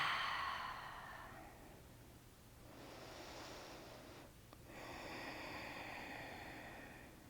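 Slow, deep yoga breaths during a restorative class, soft airy inhales and exhales close by, swelling and fading in long waves over a low steady hum with no talking.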